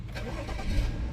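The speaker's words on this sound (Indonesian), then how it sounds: "tinggal injek rem dan tekan start stop engine button di sebelah kiri sini untuk menyalakan mesinnya" BMW 535i sedan's six-cylinder engine cranking and catching, a short starter whir rising into a smooth, close low engine hum that settles quickly.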